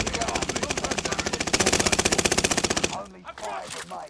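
Automatic gunfire in Call of Duty Warzone, a loud, rapid and steady burst of shots that runs for about three seconds before cutting off into scattered game effects, with a voice briefly heard.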